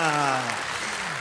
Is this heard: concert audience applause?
yes